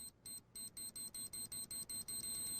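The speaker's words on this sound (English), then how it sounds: "it's like a beeping" A high electronic beeping repeats in short pulses, the gaps shrinking until the tones nearly run together as the rhythm speeds up.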